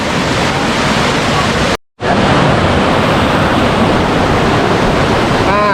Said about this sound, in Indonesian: Sungainya lumayan gede, airnya bersih.